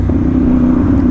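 A CF Moto 450NK motorcycle engine runs close by while accelerating, with a steady, loud, low droning rumble.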